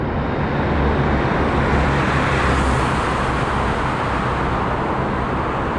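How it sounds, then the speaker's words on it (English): Steady loud roar of a car passing inside a road tunnel in Demir Kapija, Macedonia, a dense broadband wash that fills the enclosed space evenly without a break or speech. "there's one car coming."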